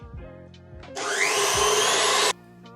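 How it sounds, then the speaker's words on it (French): A stand mixer whirs loudly at its top speed of 10 for about a second and a half, a close, steady high whine that cuts off abruptly, with no talk. "Pour ensuite lancer le batteur vitesse 10"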